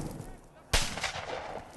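Sharp firecracker blast during miners' running battles with police, a single loud crack followed by a rumbling, echoing tail amid crowd noise.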